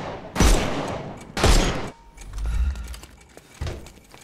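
Gunfire in the Sherlock Holmes Chapter One video game: two loud, close shots about a second apart, followed by rumbling impact noise and a third, softer shot near the end.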